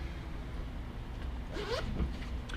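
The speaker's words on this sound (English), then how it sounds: "Zippers." A zipper on a motorcycle race suit is pulled quickly in one short, quiet rasping stroke, with soft handling rustle before and after it and no voices.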